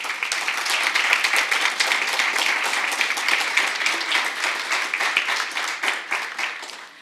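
A school board meeting audience applauds the Matadors with steady, dense clapping that holds loud for several seconds and then gradually thins and fades.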